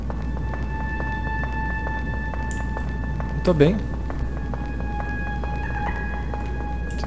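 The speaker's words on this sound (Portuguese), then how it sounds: "Tem umas bolas, faz barulho de golfinho." A swooping, dolphin-like squeal from bouncing balls in the video game Deltarune, heard once briefly over a steady game music bed with tonal chimes, and a voice speaks briefly.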